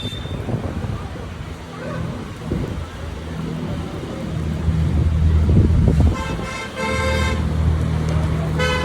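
Rain falls during a roadside stop on the journey from Delhi to Srinagar, a steady broad hiss under nearby traffic, with a car horn tooting and faint voices in the background.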